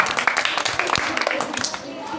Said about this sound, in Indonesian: Sekali lagi tepuk tangan buat Praja